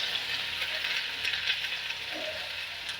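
Onion added to hot oil with mustard seeds and cumin gives a continuous soft sizzle, close and steady, with faint stirring underneath.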